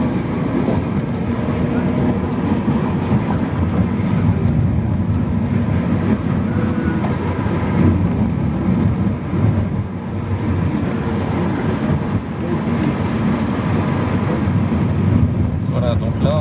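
A car is driven in second gear during an eco-driving drive, with the engine accelerating. It makes a steady, fairly loud rumbling drone inside the cabin that holds even throughout with no distinct breaks.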